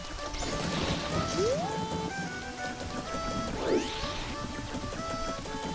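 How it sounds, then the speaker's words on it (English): Steady rain patters continuously in The Legend of Zelda: Majora's Mask, with a few brief tonal chimes and a sweeping effect layered over it, no talking. "Probably because it's raining."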